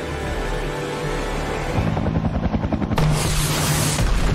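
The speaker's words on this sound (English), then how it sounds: "You don't hear that copter outside?" Helicopter rotor chopping in a TV drama scene, a loud steady thudding pulse that speeds and grows denser midway, with a sharp burst of noise partway through.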